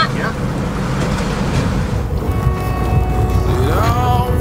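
A sailboat running under full sail: a loud, steady rush of wind and waves with heavy wind buffeting on the microphone, and faint tonal sounds entering partway through.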